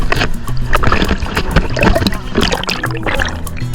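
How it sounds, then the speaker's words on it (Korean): High ocean waves break on the beach at Playa del Carmen, Mexico, making a loud, continuous rushing wash with repeated surges and splashes. "파도가 엄청 높아요."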